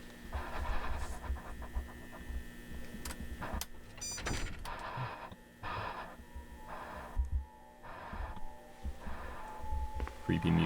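Heavy, laboured breathing from a character in a Backrooms horror video, repeated pants and breaths over a steady low hum and ambient noise, with occasional voice-like sounds mixed in.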